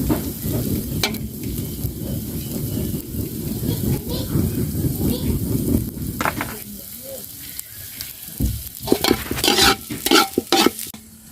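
Ginger and garlic sizzle in hot oil in a pan while being stirred, a dense frying hiss with scraping strokes that thins out near the end, giving way to a few sharp utensil knocks.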